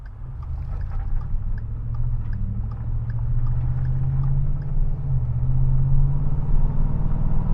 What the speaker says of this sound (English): All right, car coming,